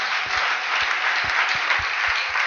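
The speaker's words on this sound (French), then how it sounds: "Applaudissons fort le Seigneur." A church congregation applauds in a steady, dense burst of clapping, with rhythmic low thumps running under the claps throughout.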